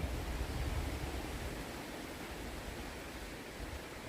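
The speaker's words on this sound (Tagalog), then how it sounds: "maulan ngayon at mahangin" Rain and wind outdoors beside a river make a steady, broad hiss, loudest at the start and then evening out, with no voices.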